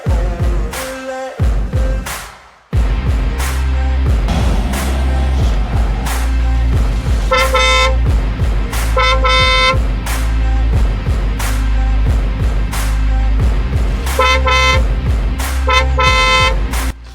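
On a busy road, a car horn sounds repeatedly in short and longer honks over a continuous engine and traffic rumble, close and loud, after a brief lull near the start.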